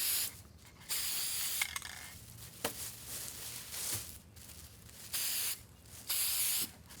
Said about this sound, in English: after you've gotten your wreath sprayed